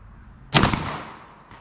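A single 12-gauge shotgun shot firing a Federal Premium slug gives one loud, sharp blast, with a short rolling decay into a quiet outdoor background. There is no talking.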